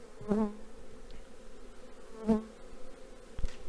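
A steady low hum of honeybees at a hive during the first spring cleansing flight, with a couple of louder buzzes as single bees pass near the microphone.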